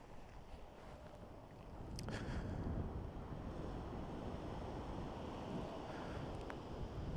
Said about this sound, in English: there's definitely some rough waves coming in.